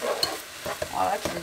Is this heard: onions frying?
yes